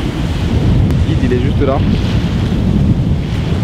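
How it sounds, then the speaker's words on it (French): Strong wind on an open sandbank off Zanzibar buffets the microphone with a loud, continuous roar, and a voice speaks briefly in the middle of the gusts. "Il y a beaucoup de vent."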